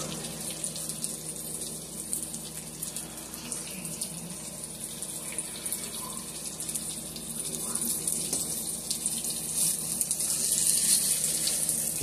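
Water from cooked eggplant pours steadily into a kitchen sink, a continuous close gushing rush that swells slightly toward the end, with no talk.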